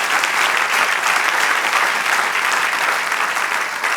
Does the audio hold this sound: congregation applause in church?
yes